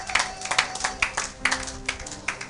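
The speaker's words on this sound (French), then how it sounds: "Acclamons pour la gloire de notre Dieu" A church congregation claps in a steady rhythm during worship, a run of sharp, even hand claps at a moderate tempo, close and fairly loud with a faint voice underneath.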